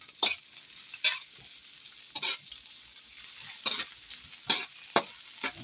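Garlic, onion and ginger sauté in a pan, with a low steady sizzle broken by about seven sharp scraping bursts as the spatula stirs, close and fairly quiet, with no voices.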